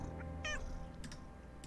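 Cat meowing in a Nancy Drew mystery game, a single short meow near the start followed by faint clicks over a quiet ambient hum.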